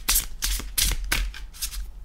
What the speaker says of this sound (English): It's a little bit easier with a vertical shuffle.